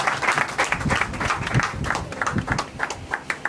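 Wedding congregation at a Christian ceremony applauding, a dense steady patter of many hands clapping throughout, fairly close and lively, with faint voices mixed in.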